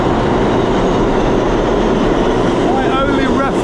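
A train rumbles steadily through a New York subway station, a loud continuous roar of wheels and rails that fills the whole stretch, with a faint high screech near the end.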